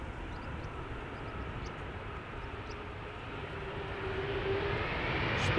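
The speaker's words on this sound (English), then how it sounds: "Pull up those reversers, baby." An airliner lands at Schiphol and engages its thrust reversers, a faint, distant jet roar building slowly and growing louder toward the end.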